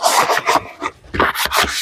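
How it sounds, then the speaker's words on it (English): Brush scrubbing a mucky plastic seed tray: rhythmic, close, raspy strokes in quick bursts with a short pause in the middle. "and scrub"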